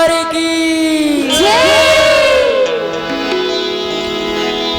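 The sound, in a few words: applause and cheering at devotional Ramayana gathering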